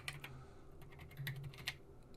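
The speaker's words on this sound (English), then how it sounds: "Still checking keys that they behave. Space bar works." Keys clack on a Tandy CoCo 2 computer keyboard being tested after cleaning, a quick run of a dozen or so close, crisp taps at an uneven rhythm with no talking.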